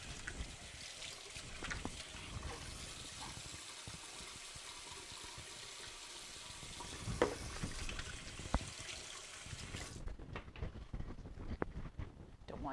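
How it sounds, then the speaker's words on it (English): Tap water runs steadily in a home kitchen, splashing and gushing as hands are washed beneath it, fairly close and continuous, then cuts off abruptly near the end, leaving scattered small clatters. "Let me wash my hands."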